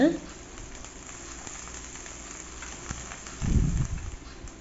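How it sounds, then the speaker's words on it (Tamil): Shallots, chillies and curry leaves sizzling in hot oil in a pan for sambar, a steady faint frying hiss with a louder crackling burst near the end. "ரெண்டு கொத்து கருவேப்பிலை இது கூட ஆட் பண்ணி நல்லா வதக்கி விடுங்க"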